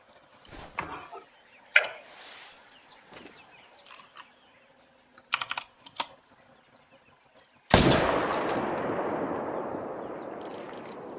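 Hunting rifle fired at an animal in the video game The Hunter: Call of the Wild, one sharp loud shot late in the clip followed by a long rolling echo, preceded by quiet outdoor ambience with scattered clicks and bird calls.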